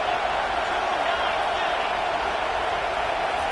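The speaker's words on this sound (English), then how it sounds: "Decibels rising as the crowd gets behind this defense on 3rd down." Dense, steady roar of a stadium crowd at a college football game between Boston College and Texas, rising behind the defense on third down, a continuous wash of noise with no distinct breaks.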